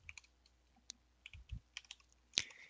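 Typing on a computer keyboard while coding, heard as scattered quiet key clicks in short irregular bursts, close but faint, ending with one louder, sharper keystroke.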